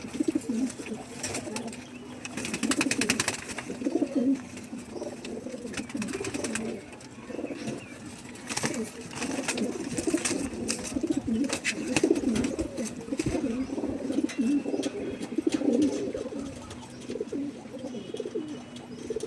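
High-quality Malbai and Andra pigeons kept at home coo continuously nearby, deep rolling calls layered over one another, with brief rustles and flutters of wings throughout.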